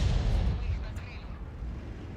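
An SU-14-2 self-propelled artillery gun fires a high-explosive round in a tank video game, a deep booming report that rumbles and fades over about two seconds.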